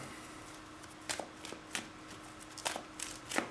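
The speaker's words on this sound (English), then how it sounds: "I'm going to shuffle my deck too." A deck of Magic: The Gathering cards being shuffled during a tabletop playtest, giving soft riffling bursts about five times over a steady quiet background, close and fairly faint, with no talking.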